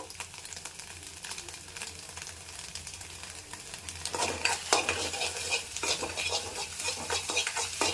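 Spoon stirring egg rice seasoned with chili powder in a pan, soft scraping and light sizzling at first, growing louder and busier with clattering scrapes halfway through; no talking.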